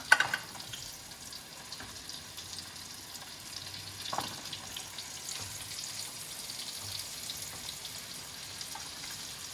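Plain flour-dusted fish pieces sear in a hot pan for a cioppino, giving a steady soft sizzle with a couple of brief clinks and knocks early on.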